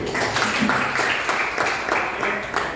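A group at a teachers' training session claps together in unison with a rhythmic, repeated beat. The close claps come at fairly regular intervals through a short burst.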